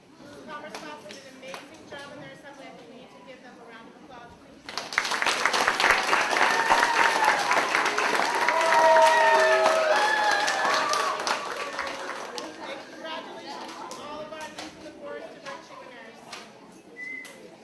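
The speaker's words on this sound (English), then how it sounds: "I think we need to give them a round of applause, please." An audience at a third-grade school assembly breaks into loud, sustained applause with some whistles and cheers, rising abruptly after a speaking voice and fading back down to talk near the end.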